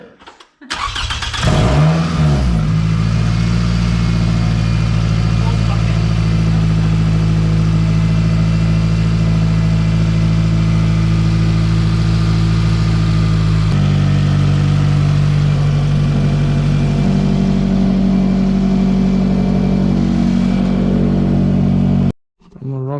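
A Toyota Camry engine cranks and starts, then idles loud and deep for a long stretch. Its tone shifts partway through before the engine shuts off.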